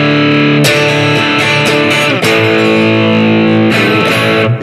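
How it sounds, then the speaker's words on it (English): An electric guitar plays through a Valeton GP-200LT multi-effects unit set to a blues overdrive with spring reverb and slapback delay, loud sustained chords with several sharp re-strikes, the driven tone ringing out alone. "still driving that amp a little bit with distortion, which happens to be a blues overdrive, which is basically a Boss blues driver."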